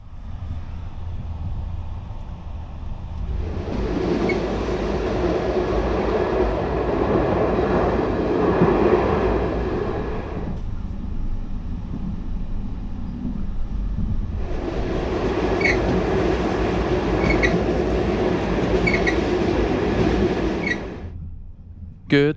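Overnight sleeper train from Tangier to Marrakesh rumbling along the rails, a continuous low roar with two louder stretches of rushing noise, no voices heard.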